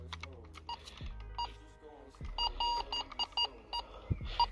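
A metal detector sweeping over buried German coins gives repeated short electronic beeps and tones in quick bursts, close and clear, with soft handling noises between signals.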